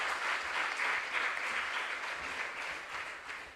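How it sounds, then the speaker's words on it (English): Sustained audience applause at the start of the first round of a junior science and maths quiz, regional qualifiers in the Ashanti Region, a dense, steady wash of clapping that fades slightly toward the end, with no talking over it. "A round of applause for us as we start round 1."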